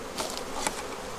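Honey bees buzzing around an open beehive, a close, faint hum with a couple of louder passes as individual bees fly near.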